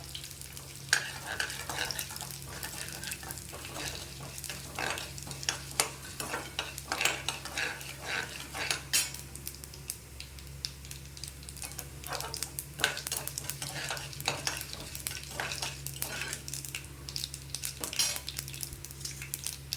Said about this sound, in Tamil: கடலப்பருப்பு உளுத்தம்பருப்பையும் போட்டுக்கலாம். நல்லா வதக்கிக்கலாம்.